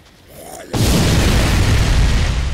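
A bomb detonates in the video game Dead Rising 4, a sudden loud boom that swells into a sustained, roaring blast of fire and rumble filling the rest of the moment, with no talk over it.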